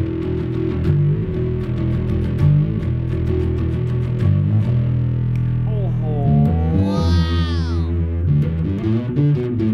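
Bass guitar notes through an amplifier with a slightly gritty, distorted edge, played loud and close, with a bending, sliding passage in the middle.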